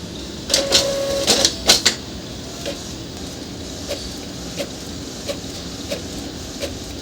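An Epson 3210 printer makes a photocopy, opening with a cluster of sharp mechanical clacks and a brief whine, followed by a steady hum broken by soft, evenly spaced clicks.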